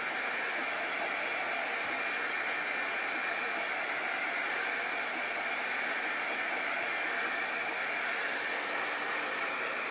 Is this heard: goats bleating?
no